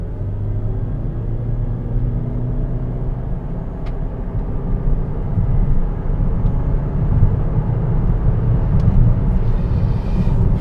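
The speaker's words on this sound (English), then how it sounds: "I'm going to do an acceleration run. I'm going to put into sport." A 2020 Toyota Prius accelerating hard in sport mode, heard from inside as a steady low engine and road rumble that swells and grows louder through the run, with no talking.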